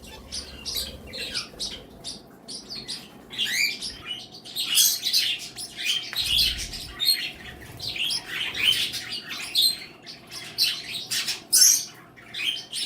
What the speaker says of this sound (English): Here's a budgie in there.